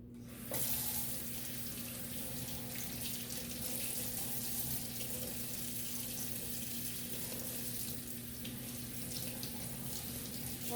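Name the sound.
tap water running to wet an orchid root plug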